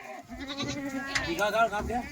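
A Kathiawadi goat bleats in a quavering, drawn-out cry close by, with a person talking at the same time.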